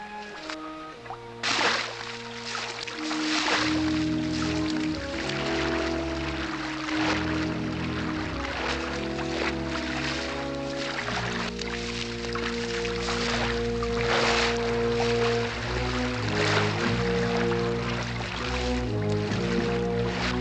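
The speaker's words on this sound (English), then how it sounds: "You gotta walk in the water." Someone wades through a shallow stream, water sloshing and splashing steadily for about twenty seconds over a musical score, close and continuous with no talking.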